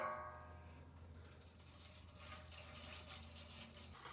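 Engine oil draining from a Ford F-150 diesel, a faint continuous trickle of liquid into a pan with a low background hum throughout.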